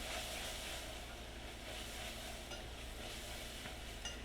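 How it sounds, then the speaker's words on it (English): Chopped vegetables being stirred into a hot flour and oil roux, giving a steady sizzling hiss with faint scraping of the spoon throughout and no talking. "And we're going to just mix this in."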